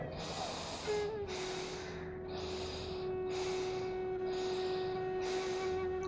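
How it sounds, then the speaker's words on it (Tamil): Deep, forceful breaths during a yoga breathing exercise come as six rhythmic, hissing inhales and exhales, close and loud, over a faint steady tone. "நல்லா மூச்சை உழழுத்து மூச்சு விடுங்க"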